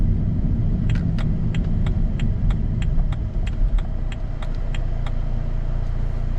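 A salvage BMW Z4 drives along with a steady, loud low engine and road rumble heard from inside the cabin, plus a series of light ticking clicks.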